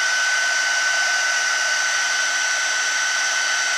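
Heat gun blowing over embossing powder makes a steady, close, unbroken airy roar with a faint tonal whine, and no voices are heard.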